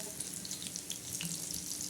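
Green chillies fry in hot oil with a faint, continuous bubbling sizzle and scattered crackles, low and close.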